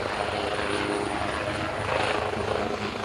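A Turkish Aerospace twin-engine six-ton helicopter flies at an international airshow, its rotor and turbine roar loud and continuous throughout, with no talk.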